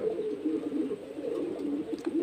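Pigeons coo softly and steadily, a low continuous burbling murmur close by, with a faint chirp near the end.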